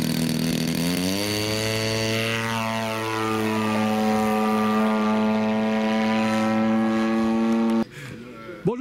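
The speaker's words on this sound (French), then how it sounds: "on parlait des avions téléguidés" Radio-controlled model airplane engine whining loudly and steadily, its pitch rising then holding high for several seconds before cutting out abruptly near the end, heard at a scale-model aircraft competition.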